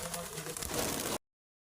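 A pigeon coos on a goat farm, soft low calls blended into a busy outdoor background of rustling and noise, ending abruptly.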